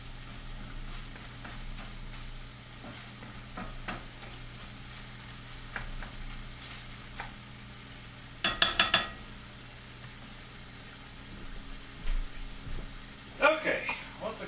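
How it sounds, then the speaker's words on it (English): Chorizo sizzles steadily in a hot pan, a soft continuous crackle broken by a few sharp utensil clinks and scrapes against the cookware. "I like how the sound of this sizzling is just being amplified in my headphones right now."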